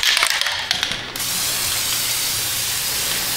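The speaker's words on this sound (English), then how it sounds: "I just wanted to spray down the top of that rack" Aerosol spray can hissing steadily onto the top of a rack during rusted Subaru subframe work, a close continuous spray lasting several seconds after some brief clatter at the start.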